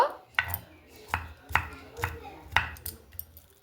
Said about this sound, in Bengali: তো দেখুন সবগুলো পেঁয়াজ কিন্তু এইভাবে আমি কেটে নেব